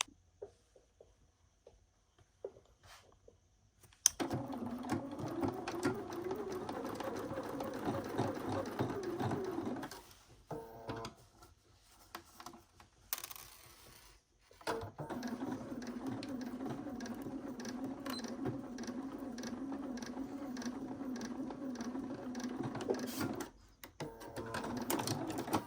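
A sewing machine stitching a bodice runs in two long, steady bursts of fast, whirring needle strokes, separated by a short pause with faint handling sounds, quiet lead-in at the start.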